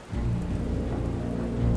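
Heavy rain pours down on crowded city streets on a holiday night in The Batman, a dense steady downpour with deep rolling thunder rumbling beneath it, loud and continuous from start to finish.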